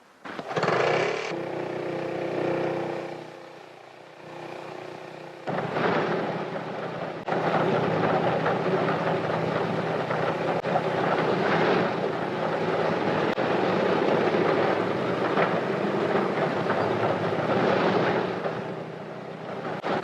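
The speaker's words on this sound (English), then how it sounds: "Tiny auxiliary motor starts each main engine in turn." A Handley Page airliner's main engines are started one by one by a tiny auxiliary motor: a whirring start-up, a brief lull, then engines catching and building into a loud, sustained propeller drone with surging swells.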